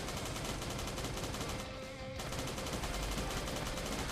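Rapid, continuous Mini-Uzi automatic fire in a video game, a dense loud rattle that briefly dips about halfway through before resuming.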